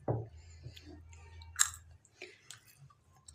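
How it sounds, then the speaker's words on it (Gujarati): A child eats hot peanuts freshly roasted in sand, with soft, close chewing and occasional small crunches over a quiet background. "તેજસ્વી જો ગરમ ગરમ ખાય છે"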